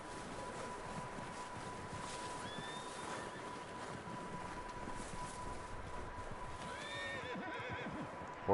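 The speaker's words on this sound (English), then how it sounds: "Horses in there" Horses in Red Dead Redemption 2 whinny twice over steady wind and ambient noise, one neigh midway and a louder, longer whinny near the end, with faint hoof movement underneath.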